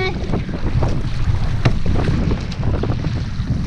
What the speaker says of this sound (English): Pretty windy right here today.